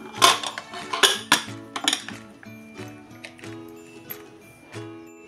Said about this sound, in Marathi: कुकरचं झाकण बसवून आता आपण ह्याच्या शिट्ट्या करून घेऊया।